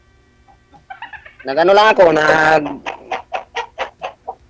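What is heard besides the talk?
chickens clucking behind the house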